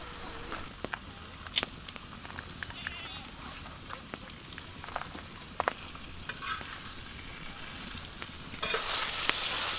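Sliced onion and mushrooms frying in a little oil in a pan, a low steady sizzle with scattered clicks and stirring scrapes, growing louder and hissier near the end as the heat picks up.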